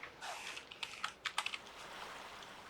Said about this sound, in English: I am typing on the freaking window and I'm trying to name the image.